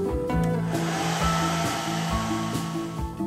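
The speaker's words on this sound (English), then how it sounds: "Time for the hairdryer trick." A hair dryer blows steadily at close range onto a model car being built, a continuous rushing airflow with slight wavering, heard alone.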